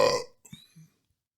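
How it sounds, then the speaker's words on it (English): A single burp let out away from the microphone in a podcast studio, fairly loud at first, then trailing off into a couple of short, softer gulping bursts before silence. "That's why I burped away from the microphone"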